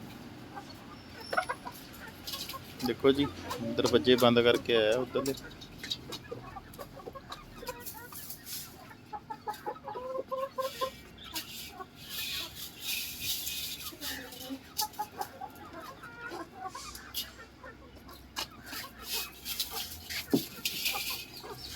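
Chickens on a farm house yard cluck and squawk intermittently at moderate distance, with bursts of louder fowl calls, while someone speaks between them.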